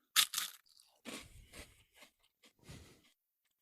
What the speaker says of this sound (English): Mute your phones if you don't want to hear me chew.